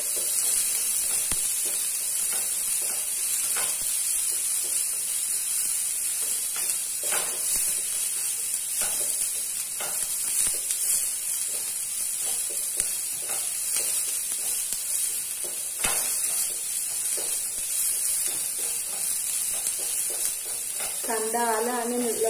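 Ginger and garlic fry in a pan for an egg curry, a steady close sizzle and hiss running throughout with occasional stirring scrapes and a brief clatter near the end.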